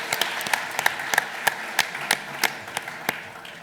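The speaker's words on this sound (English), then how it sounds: "We're out of time, but a huge round of applause." Audience applause at a startup pitch competition finals, a moderate round of clapping with distinct individual claps standing out, fairly close, with no talk over it.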